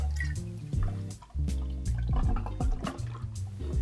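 Two ounces of spirit poured for a backyard iced tea cocktail: close liquid glugs and drips with a brief pause partway, splashing into a glass.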